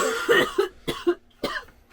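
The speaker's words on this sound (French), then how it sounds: "tousse toujours" Someone coughs several times in quick bursts, close and fairly loud, with short pauses between.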